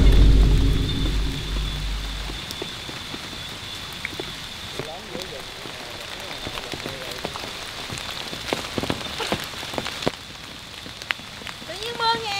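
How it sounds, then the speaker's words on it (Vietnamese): Steady rain patters across a surface in a video game, a continuous hiss with scattered drop impacts. It stays fairly quiet and even throughout, with low rumbling at the start. "Tự nhiên mưa nghe em trời."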